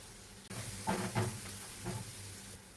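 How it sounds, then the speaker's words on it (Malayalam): Garlic dropped into hot oil while preparing a masoor dal curry with moringa leaves, giving a sudden steady sizzle and hiss with a few louder spitting bursts, close by and without talk. "ചൂടായ എണ്ണയിലേക്ക് കുറച്ച് ഗാർലിക് ഇടാം."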